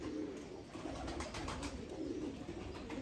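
Soft, low cooing from black pigeons repeats steadily against a constant background hum, with occasional faint chirps; no talking.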